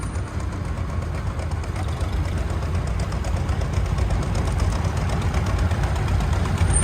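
A 1964 John Deere 3020 gas tractor pulling a semi-mounted three-bottom plow runs steadily in a show parade, its engine a loud, even, knocking idle throughout.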